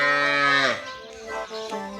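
A water buffalo in a village lets out a loud, close moo, a long drawn-out call followed by a softer second low.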